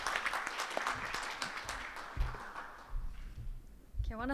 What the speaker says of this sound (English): how about a round of applause for this wonderful panel?